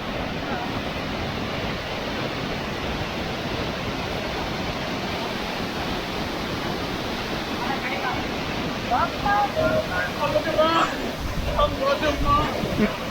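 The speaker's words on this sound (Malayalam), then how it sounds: "ഇവിടെ എത്തിക്കഴിഞ്ഞാൽ നിങ്ങൾക്ക് തന്നെ കാണാം, അടിപൊളി വാട്ടർഫോൾസ് ആണ്" A waterfall near Ranganabetta Temple in Chikmagalur rushes in a steady broadband roar, with faint voices and splashing rising toward the end.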